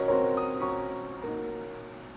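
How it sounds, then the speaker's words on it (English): Rain falling steadily during a storm, a soft continuous wash of drops on a surface that holds at a fairly even level throughout, with no talking. "It is raining"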